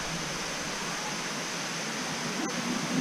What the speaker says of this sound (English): really nice waterfall view here.